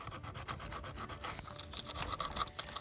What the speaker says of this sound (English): We always just use sandpaper, and that always seems to work.